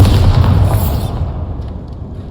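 Bombarda spell explosion in the game Hogwarts Legacy, a loud low boom that fills the moment and then decays into a rumbling tail.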